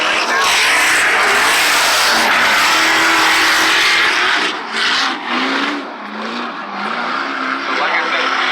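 Formula Drift cars at an event, roaring engines at full throttle with squealing tires, loud and continuous, then a dip as the sound drops and a rising rev; commentators talk over it throughout.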